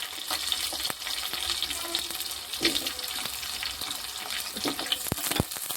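Large onion pieces sizzle and fry in a pan while being stirred for a Bendakaya dappalam, a steady hiss and crackle with scraping and clinking of the spoon throughout, close up.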